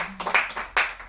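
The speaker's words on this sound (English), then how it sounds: "I guess clap if you enjoyed it." Small audience clapping after a raw stand-up comedy set at an open-mic show, two brief bursts of hand claps, close and moderately loud, with no talking over them.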